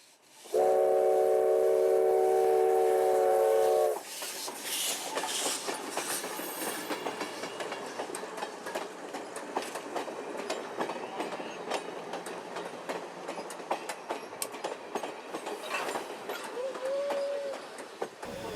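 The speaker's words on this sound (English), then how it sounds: "the train's going to be pulled south into a beautiful farmer's field" A heritage train run by the Southern Ontario Locomotive Restoration Society passes a farmer's field in Ontario, opening with a long, loud horn blast, then a steady rolling rumble and clatter of cars, with a brief whistle near the end.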